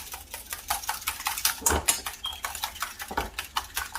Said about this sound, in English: So I'm going to just whisk my eggs up